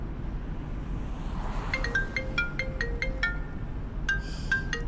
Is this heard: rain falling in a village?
no